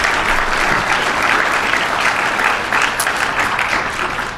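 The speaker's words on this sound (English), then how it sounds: "Can we please give our mayor a hand of applause again for those incredible remarks?" Dense, sustained applause from an audience at a Chicago mayoral hearing on a community safety plan, steady and fairly loud throughout with no speech over it.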